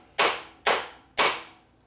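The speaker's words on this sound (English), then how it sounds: "Hit it with a hammer." Three sharp hammer strikes on a metal part of a Harley five-speed transmission during rebuild, evenly spaced about half a second apart, each ringing out briefly and fading before the next.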